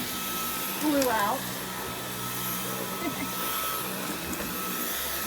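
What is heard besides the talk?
vacuum cleaner in an RV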